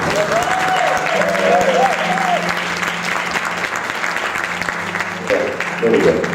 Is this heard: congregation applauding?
yes